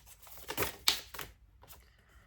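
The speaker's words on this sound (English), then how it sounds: "I'm going to continue shuffling with the cards up like this" Oracle cards are shuffled face up by hand, giving a few quick, close, papery riffling bursts followed by fading quieter rustles.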